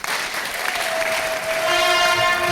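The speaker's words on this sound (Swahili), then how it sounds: "Makofi mazuri basi washirika." A church congregation applauds at an award presentation at an evangelism centre, with dense, steady clapping from many hands while a sustained musical tone rises beneath it.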